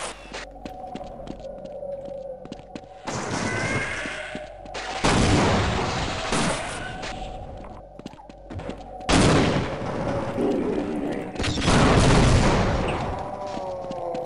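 Bursts of rapid gunfire and explosions from the game Half-Life (1998), loud and rattling, separated by quieter stretches of low hum and scattered clicks.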